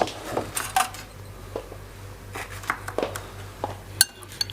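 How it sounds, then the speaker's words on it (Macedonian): A small spoon stirs peppers and carrots soaking in brine, producing light repeated clinks and scrapes against the dish at an irregular pace, close and fairly soft. "Ќе ти дадам лажичка за да промешаш"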